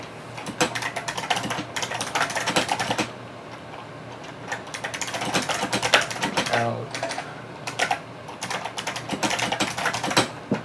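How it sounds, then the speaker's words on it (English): Rapid clicking of computer keys in bursts of typing, close by, with a brief pause midway and a low hum of fans beneath. "I hope you guys like the sound of my keyboard."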